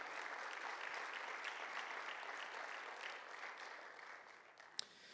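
Congregation applause during a church service, a continuous, even roar of many clapping hands heard at a distance and fairly faint, with one sharp louder clap near the end.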